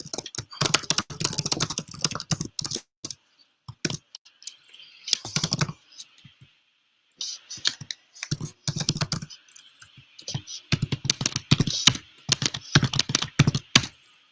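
Typing a password on a computer keyboard: bursts of rapid, close-up key clicks separated by short pauses, with a faint voice briefly under the tapping.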